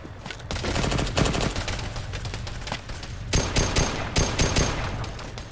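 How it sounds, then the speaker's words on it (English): Rapid bursts of video game gunfire in a Tanoa military shooter match crackle loudly and continuously, with dense automatic volleys and sharp individual shots stacking over one another for several seconds. "Shots right."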